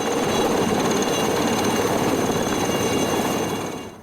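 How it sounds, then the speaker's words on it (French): A helicopter delivering supplies to a mountain hut thunders loud and close with dense rotor chop, then fades slightly at the end. "l'hélicoptère dépose les marchandises à la porte même de la cabane"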